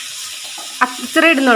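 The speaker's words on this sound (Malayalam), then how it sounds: "ഇപ്പൊ രണ്ടായിട്ട് വറുത്തെടുക്കാം" Chicken pieces fry in oil with a steady hiss and stirring, and a person speaks briefly over the sizzle near the end.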